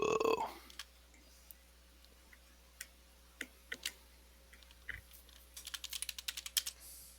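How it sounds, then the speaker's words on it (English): Computer keyboard typing comes as scattered single keystrokes that build into a quick, dense burst near the end. A voice is heard briefly at the start. "I hear typing."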